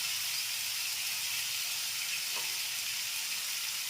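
Ginger and garlic paste fry in a pan for a prawn posto dish, making a loud, steady hissing sizzle that stays even throughout with no voices.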